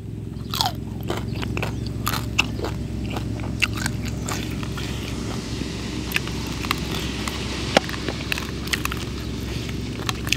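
Crispy skin of a whole roast suckling pig is bitten and chewed, sharp crunches and crackles repeating over steady low background noise, up close with no talking.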